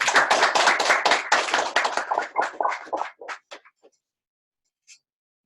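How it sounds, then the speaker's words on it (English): Audience applause after a talk on machine learning in cyber security: a burst of dense clapping from a room of listeners that thins out into a few scattered claps and dies away. "Can we do a round of applause?"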